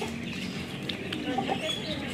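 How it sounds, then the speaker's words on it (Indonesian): Soft clucking from a crested bantam chicken in a busy, noisy setting, with brief bird calls mixed into a steady murmur of background chatter. "Ada ayam kate jambul"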